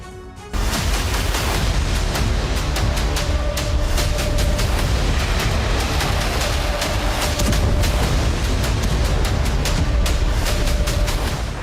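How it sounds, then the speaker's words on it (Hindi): Iranian military exercise with missiles launched, a dense, loud roar of booming blasts and crackling bursts that rumbles continuously with brief peaks, without any voices. "युद्धाभ्यास में मिसाइलें दागी, दुश्मन की मिसाइलों को गिराने का अभ्यास किया है।"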